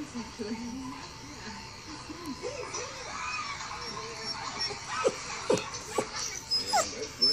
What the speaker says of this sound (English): You hear the puppy? It's right here.